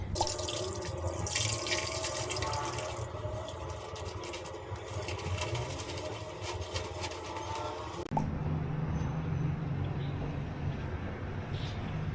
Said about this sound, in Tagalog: Kasi parang nag-iipon pa siya ng tubig dun sa tangke.